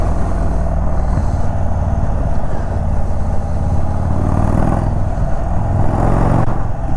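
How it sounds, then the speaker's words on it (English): A 2021 Indian Chief Bobber 116 Stage 2 motorcycle engine roars with heavy intake induction noise, a continuous loud, close low throb with a pulsing V-twin rhythm held steady throughout while riding. "this thing, I can hear it really inducting"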